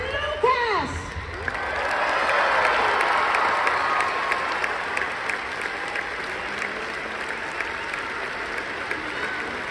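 Loud, steady applause and cheering from a big audience at the MGP 24 Mega Show, a Danish music contest. It swells after a brief higher shout at the start and keeps up evenly the whole time, with faint voices in the crowd.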